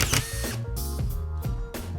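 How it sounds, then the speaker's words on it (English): A power drill driving screws through a drywall sheet held against the ceiling and studs, loud close whirring bursts that rise and stop in quick succession, several short runs with brief gaps between them. "drive a few screws just to hold it"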